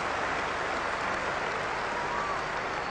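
A big crowd at a 1994 South Africa versus Australia Test cricket match applauds steadily, dense clapping filling the stadium without a break.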